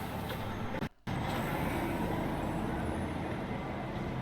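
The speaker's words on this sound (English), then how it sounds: "Tram now leaving the station." A tram pulls out of a station in the video game Star Citizen, a steady low mechanical rumble that drops out briefly near the start before continuing evenly.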